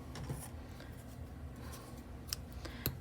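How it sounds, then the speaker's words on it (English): Scissors snip through knitting yarn at the end of a knit hat, giving a few faint, close snips over quiet room tone. "And then cut the yarn,"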